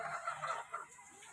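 Native chickens on a small farm give a few quiet, close clucks in quick succession, with nothing else going on around them.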